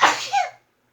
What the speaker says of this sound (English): I'm gonna sneeze, oh gosh